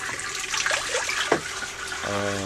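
Water trickles and splashes out of a homemade water heater, running slowly in uneven spurts with a faint hum at the end.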